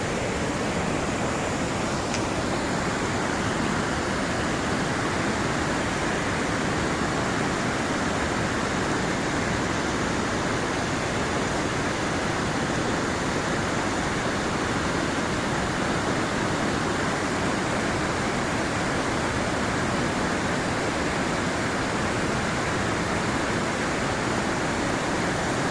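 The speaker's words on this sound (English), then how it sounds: "Falls here on the Rogue River and Deschutes Forest." Dillon Falls on the Rogue River pours over rocks as a waterfall into whitewater rapids in a forest, a loud, steady, broadband roar of rushing water that holds unbroken throughout with no voices.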